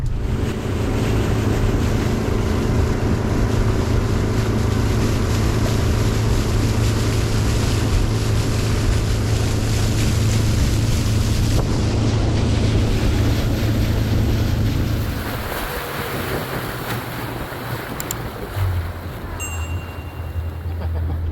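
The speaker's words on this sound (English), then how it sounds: "I'm gonna try to get up on the plane here, so just bear with me." Outboard motorboat at an oyster farm on Florida's Indian River throttling up onto plane, a loud steady engine drone with wind and hull-slapping water that drops off sharply toward the end.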